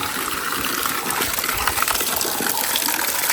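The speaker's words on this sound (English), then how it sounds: "It's so nice to see water flowing" Steady rushing water pours continuously at the ancient ruins of Sagalassos, Turkey, a broad, bright splashing gush close by with no voices.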